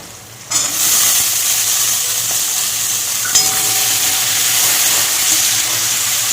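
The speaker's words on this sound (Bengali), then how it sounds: "উচ্ছেটা একটু ভালো মতন ভেজে নিয়েছি এবার দিয়ে দেবো কুমড়ো" Bitter gourd frying in a pan as pumpkin is added and stirred: a loud, close sizzle starts suddenly and hisses steadily, with a fresh surge and a clack partway through, no speech.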